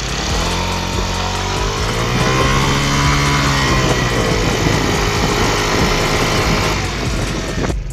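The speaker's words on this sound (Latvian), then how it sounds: "Klausieties motora skaņu." A Benzhou MotorStar scooter engine runs close by, holding a steady buzzing note and briefly revving up and back down midway, with no talking.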